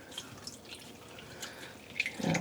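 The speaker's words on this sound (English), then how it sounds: "I'm just squeezing out some of the water to not make a huge mess." Water drips and trickles from a freshly dyed yarn skein as it is squeezed out by hand, light scattered drops that swell into a short splashing pour at the end.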